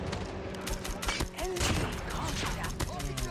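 Pistol fire in Call of Duty Mobile: a string of sharp single shots over busy game noise, with a steady background hum and occasional chirps.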